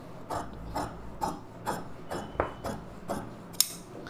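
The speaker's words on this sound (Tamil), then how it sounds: "இப்போ இதெல்லாம் கட்டிங் பண்ணிக்கலாம்." Scissors cut through blouse fabric during designer blouse tailoring, making a steady series of about nine short, close crunching snips spaced at regular intervals, with no voices.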